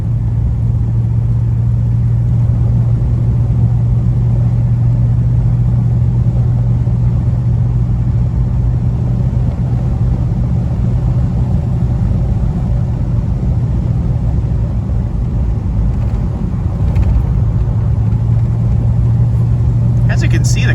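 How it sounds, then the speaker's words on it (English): A 1940 Ford Tudor Deluxe Sedan hot rod's engine rumbles steadily from inside the car as it cruises, a deep constant drone with road noise and no talking. "we'll let the car talk for itself for a couple seconds"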